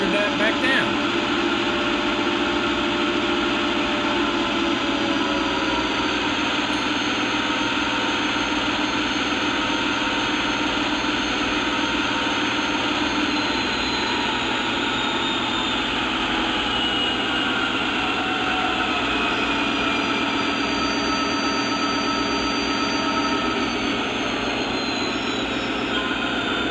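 A Lionel Legacy Santa Fe SD40-2 model diesel locomotive revs steadily at high notch, a continuous dense roar with a droning whine held throughout, close and loud with no break.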